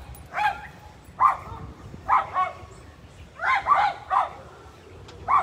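A dog barks in short yips and bow-wows, about seven separate barks at uneven intervals, fairly close and clear against a quiet indoor background.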